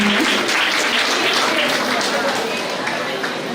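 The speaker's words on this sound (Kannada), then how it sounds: "ಜೋರಾದ ಚಪ್ಪಾಳೆಯೊಂದಿಗೆ ಇದನ್ನು ಗೌರವಿಸೋಣ" Audience clapping at a foundation ceremony and announcement event, a dense burst of applause from a sizeable crowd filling the whole moment, fairly loud and slowly easing off.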